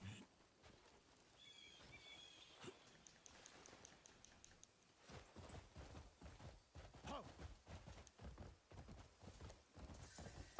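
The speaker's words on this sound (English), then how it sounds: "Our horse got a little speed upgrade." Horse hooves gallop in the Crimson Desert video game, quicker rhythmic thuds building after a calmer stretch of game sounds and faint chimes, fairly loud and steady toward the end.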